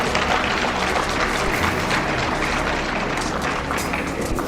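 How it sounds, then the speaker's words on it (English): An audience claps together in a dense, steady burst that holds at full loudness for several seconds, with no voices heard above it. "you can clap for that."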